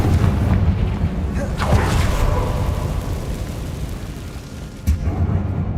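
Confringo explosion spell cast in Hogwarts Legacy, a deep booming blast followed by a rumbling roar that fades, with a second sharp thud near the end.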